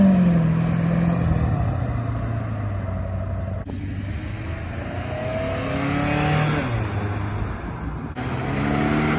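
A Honda Accord accelerates hard away from a car meet in Tampa, its engine rising in pitch through repeated gear pulls. The sound is moderately distant and carries over outdoor crowd ambience.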